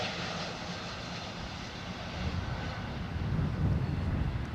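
An airplane's engine drones steadily through the landing flare in blustery conditions, a broad rumble with wind noise that swells slightly toward the end.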